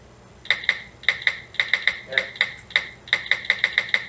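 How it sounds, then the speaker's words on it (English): Rapid iPhone touchscreen keyboard clicks, crisp and close, tapping in quick bursts with brief pauses between groups. "That's the iPhone keyboard sound."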